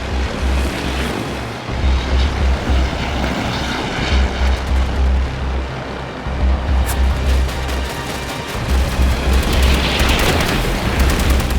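Aircraft roaring through an attack run in the video game Halo 5: Guardians, a loud, continuous engine drone punctuated by heavy booming explosions that swell and recur throughout, with no speech.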